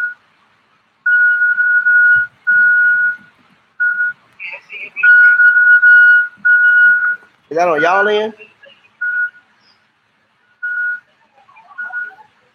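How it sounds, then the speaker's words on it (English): Someone whistles a steady, high, single-pitch tone in broken phrases of varying length, with a voice briefly cutting in near the end. "is that somebody whistling in the background?"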